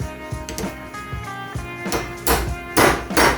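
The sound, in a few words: hammering a pin through a snow blower bracket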